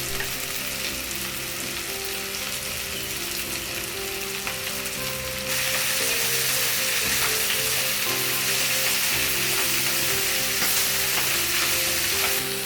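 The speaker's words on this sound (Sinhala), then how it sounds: "දැන් අපි මේකට ස්ක්‍රම්බල් එග් ටික එකතු කරගෙන හොඳින් කලවම් කරගන්නවා." Scrambled eggs and mushrooms fry in a pan while being stirred, a steady close sizzle with scraping stir sounds that grows louder and brighter partway through, with no talking.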